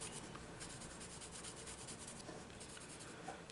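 Coloured pencil rubbing pink over paper to blend, a close, continuous scratchy stroking with quick repeated back-and-forth passes, steady and alone.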